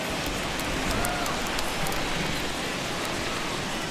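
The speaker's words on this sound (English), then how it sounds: "the rain starting to intensify here. It's coming down a little heavier now." Steady rain pours over a baseball stadium in MLB The Show 21, a dense continuous hiss with faint scattered patter, loud and even throughout.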